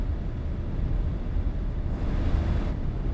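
A modded Renault truck engine in Euro Truck Simulator 2 drones as a steady, heavy low rumble, loud and continuous throughout with no talk over it.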